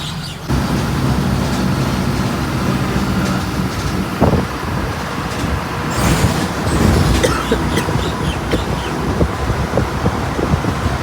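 Steady engine rumble and road noise inside a moving state transport bus near Dapoli, with wind buffeting and occasional rattles throughout.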